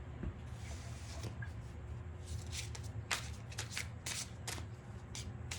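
A Wisdom of Avalon oracle card deck is shuffled quietly, with soft riffling bursts and flicks of cards coming in irregular clusters over a low background hum.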